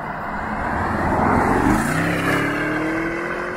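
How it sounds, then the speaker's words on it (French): The turbo V8 of a Porsche Cayenne Coupé Turbo rises in a swelling roar, peaking briefly and settling as the engine pulls, heard alone without talk. "Puis le bruit du V8, c'est impressionnant."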